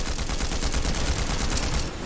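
Rapid gunfire from the video game Fortnite, a dense run of shots forming a continuous fusillade that lasts about two seconds, loud and close, with no talk over it.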